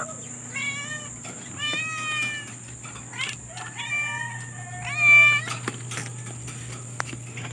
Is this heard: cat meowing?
yes